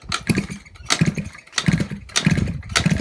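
A Suzuki ZZ Inch Up Sport scooter engine without an exhaust sputters loudly in repeated bursts, coughing and catching in an uneven rhythm as it tries to start.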